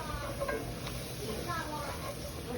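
Roux stirred and cooking in a pan, a soft continuous sizzle with gentle scraping strokes, close and fairly quiet, a faint voice in the background.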